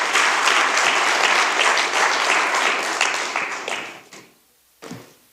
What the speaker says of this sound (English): Mr. David Cox, ladies and gentlemen, one more round of applause